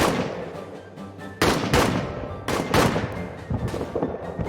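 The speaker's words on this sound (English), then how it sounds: "Direct firefight, grenade range." Gunfire in a trench warfare video game, with several sharp loud shots and bursts cracking over a low rumbling battlefield background and no talk.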